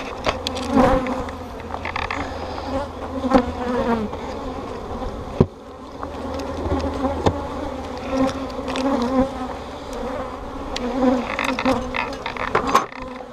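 Honey bees swarm and drone steadily from an open hive during a beekeeping inspection, a dense close buzz lasting throughout, with occasional brief louder passes and faint handling knocks.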